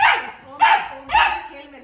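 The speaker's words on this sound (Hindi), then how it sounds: "फालतू में भौंक रहा है" A three-month-old puppy barks three times in quick succession, close and loud, each bark sharp and a little yelpy, with short gaps between them.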